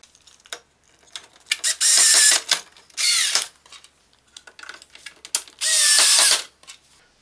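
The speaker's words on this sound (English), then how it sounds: "12 screws for each leg, 4 legs, 3 screws. And we need to install these legs here," Hand tool driving screws to attach the legs of a Silvercrest electric fireplace, heard as three loud bursts of ratcheting clicks between scattered handling taps and knocks, close up, with no talking.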